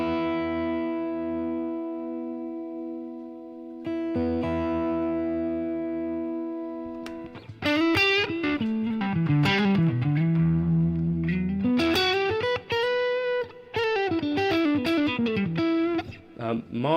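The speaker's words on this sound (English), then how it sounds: "this is deluxe reverb." Electric guitar played through an HX Stomp's Deluxe Reverb amp model, starting with sustained clean chords that ring and decay, then moving into loud, busier phrases with bent, gliding notes and heavy drive.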